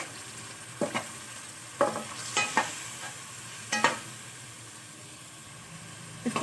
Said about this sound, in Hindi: इसको अच्छी तरह से हमने भून लेना है कि ये मसाला जो सारा इसके साथ चिपक जाए।